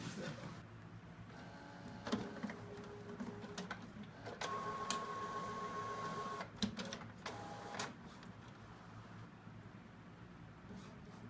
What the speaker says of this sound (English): Walk over to the printer.